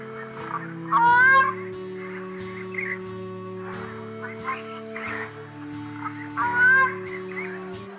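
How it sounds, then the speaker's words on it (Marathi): A grey crowned crane, Uganda's national bird, gives two loud honking calls a few seconds apart, heard on safari over a steady low droning background hum. "युगांडा देशाचा हा राष्ट्रीय पक्षी क्राउंड क्रेन."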